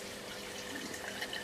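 An aquaponics siphon flushes water from a grow bed with a constant close gurgling rush and bubbling splashes.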